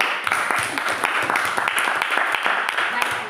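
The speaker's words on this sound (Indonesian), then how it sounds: "Nah, tepuk tangan dulu." Classroom applause during a teaching performance exam for student teachers at Universitas Pattimura in Indonesia, a steady wash of clapping over about three seconds with voices talking over it.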